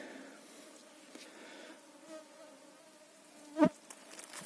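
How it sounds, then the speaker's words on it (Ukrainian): Mosquitoes whine in a forest during a July mushroom-gathering walk, a faint, thin, continuous buzz close around, with a single brief louder knock near the end. "комарі вже надоїли"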